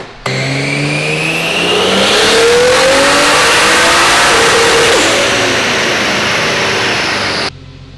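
A tuned 1JZ-engined Nissan S13 coupe revs hard and steadily under load on a dyno, a loud sustained roar with rising pitch that cuts off abruptly near the end.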